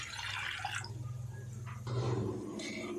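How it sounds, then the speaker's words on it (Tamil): A cup of water is poured into a cooking pot while making chicken fry, a continuous close splashing and trickling that swells louder toward the end. "பாத்திரத்தில் ஒரு கப் அளவுக்கு தண்ணி சேர்த்துக்கலாம்."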